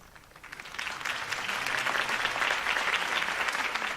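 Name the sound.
crowd applause in Batman The Telltale Series video game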